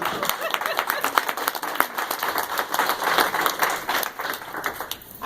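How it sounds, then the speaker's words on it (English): An audience applauds at an award ceremony, with dense clapping that is close and sustained for several seconds before it tapers off. "Let's do a round of applause."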